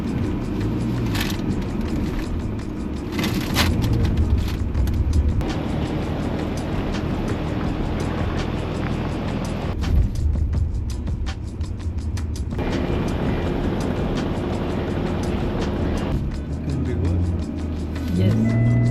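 A Mercedes creeps downhill at 5 km/h on a steep 47° descent in DSR mode, giving a steady low engine and road rumble throughout under constant broadband noise.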